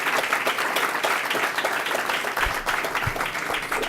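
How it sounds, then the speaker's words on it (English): Audience applause for a speaker at a college and career pathways summit: steady dense clapping from a crowd, sustained at even loudness for the whole stretch, with no talk over it. "Let's get another big round of applause to Dr. Charles Steinberg."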